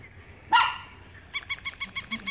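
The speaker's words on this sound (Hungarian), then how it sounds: "Itt van bolond kutyák!" Dog barks in a home: one loud bark, then a quick run of six or seven shorter, sharper yaps close to the microphone, with no talking.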